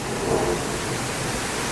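Thunder from a nearby lightning strike during a strong storm in Bordeaux: a dense, sustained rumble and roar filling the clip at steady loudness, with no speech over it.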